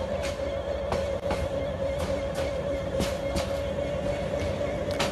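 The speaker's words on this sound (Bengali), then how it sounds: "ট্র্যাক সাউন্ডটা মানে ওই যে খটখট এরকম একটা আওয়াজ হইতেছে ট্রেন থেকে" A local train in Bangladesh rolls along the track in a train simulator game, with a steady low rumble and a continuous hum under regular clickety-clack wheel beats repeating about once per second.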